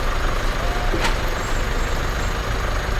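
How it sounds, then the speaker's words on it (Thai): Heavy traffic of trucks and buses rumbles along a busy Bangkok street-food soi near Ramkhamhaeng 166, a dense, loud wash of engine noise with a sharp air-brake hiss about a second in. "ซอยนี้รถเยอะ"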